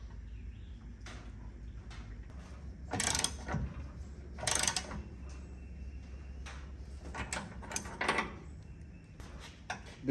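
Torque wrench ratcheting while tightening shocks on a 1984 Chevrolet K10 squarebody 4x4, several bursts of close, crisp clicking strokes separated by quieter pauses with light metallic handling sounds.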